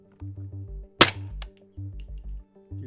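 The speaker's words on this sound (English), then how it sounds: "the first one we're gonna shoot is this Hornady 307 out of the ARC, and let's get 3 rounds out of it" A single sharp, loud rifle shot fires a Hornady 307 round out of the ARC at a .338 and 8.6 caliber shooting test, set among repeating low electronic tones.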